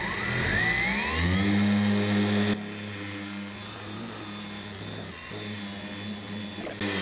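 A battery-powered Ryobi 18V dual action polisher hums steadily at higher speed during car detailing, then drops to a lower, quieter whir partway through; no talking.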